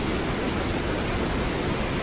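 The flooded Ambika River rushes in a steady, loud, broadband roar of churning water, continuous and close for the whole stretch with no voices.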